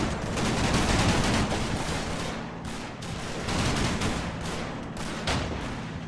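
Heavy .50 caliber machine gun fire in the WWII strategy game Combat Mission: Battle for Normandy, a loud continuous barrage of overlapping rapid shots with slight surges and dips, sustained for over six seconds.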